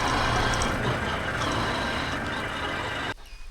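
A vehicle passes along a quiet village road among green hills in the monsoon, its broad engine and tyre rumble fairly close and steady before dropping off abruptly near the end, leaving faint ambience.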